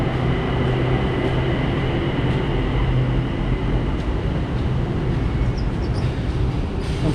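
A train at On Nut station in Bangkok gives a steady, loud rumble with a constant low drone and no pauses, as if heard from the platform or from on board.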